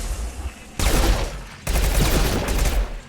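Rapid burst gunfire from weapons in the video game Mass Effect 2, two dense volleys of loud, crackling shots separated by a short lull, close and filling the whole clip with no talking.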